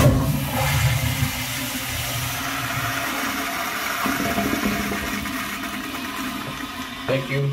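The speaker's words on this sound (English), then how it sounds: "Go ahead and flush it." A Flushmate pressure-assisted toilet flushes with a loud rushing burst of water that settles into a steady refill hiss, close by and heard alone.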